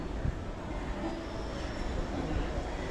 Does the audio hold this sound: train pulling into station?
yes